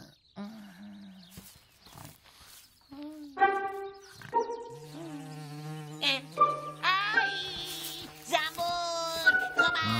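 A small cartoon bee buzzes in wavering, rising and falling tones for several seconds, mixed with other lively animated sound effects.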